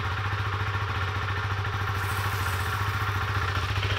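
Motorcycle engine running in fourth gear, a steady, fairly faint mid-pitched drone with a fast regular pulse and light mechanical clatter throughout.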